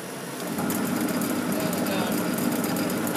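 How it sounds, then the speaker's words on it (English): A power drill boring holes into the lid of a homemade high-voltage capacitor, with a steady, loud whine that starts within the first half second and holds without pause, close to the microphone. "drill the holes now."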